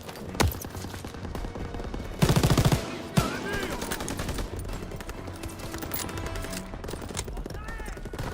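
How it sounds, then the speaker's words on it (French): Rapid automatic gunfire and single shots from Call of Duty WWII combat, loud bursts over continuous battle noise, with voices shouting in the game mix. "J'ouvre le feu!"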